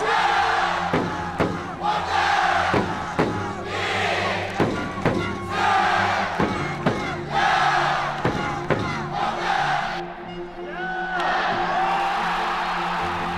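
Baseball fans roar and cheer throughout a packed stadium at a retirement game, a loud, continuous crowd din with rising shouts and sharp whoops, swelling in waves over several seconds.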